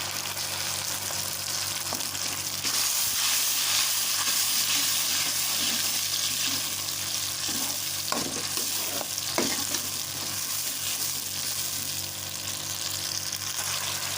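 Tomato paste hitting fried onions in a hot pan gives a loud, continuous sizzle with steady stirring scrapes and a few spatula knocks, close and with no talk.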